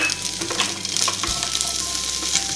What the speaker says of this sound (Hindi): इसी पैन में हम इतने ही तेल में ये कैप्सिकम को भी स्टर फ्राई कर लेते हैं।